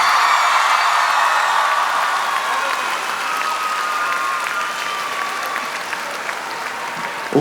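Concert audience at an arena in Skopje applauding, a dense sustained wash of clapping with some crowd noise, loud and steady for about seven seconds before a sudden bump at the very end.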